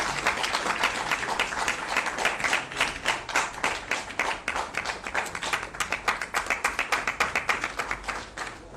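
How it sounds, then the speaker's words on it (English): An audience at a national youth gathering clapping hands, starting as dense applause and settling into rhythmic, fairly synchronized claps that grow more distinct and slightly quieter toward the end. "Let's clap hands until she comes to the podium."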